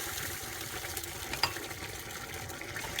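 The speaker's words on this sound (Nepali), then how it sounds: "मेरो ग्यास अफ भएर पनि एकदमै हिट हुन्छ, त्यही कारण उम्लिरहेछ" Chicken thukpa soup bubbles and simmers in a pot on a gas stove just switched off, a soft continuous hiss with scattered little pops, fairly faint and with no talking.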